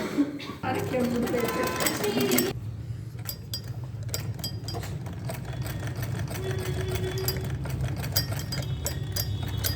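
A sewing machine stitching the hem of a bloomer, a steady close mechanical whir and rattle running the whole time, with a brief louder burst near the start and a person talking over it.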